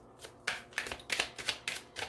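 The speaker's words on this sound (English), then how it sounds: "as I'm shuffling these cards" Tarot cards being shuffled in a quiet room, a run of about seven crisp riffling bursts at a steady rhythm, close and fairly soft, with no talking.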